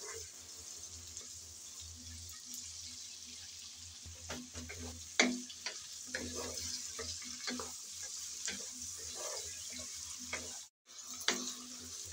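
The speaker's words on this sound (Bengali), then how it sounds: "আমি নেড়ে চেড়ে হালকা করে ভেজে নিয়েছি।" Chopped vegetables for Bengali khichuri being stirred and lightly fried in a pan: a soft continuous sizzle with scattered scraping clicks of the spoon, quiet and close, with a brief faint voice near the end.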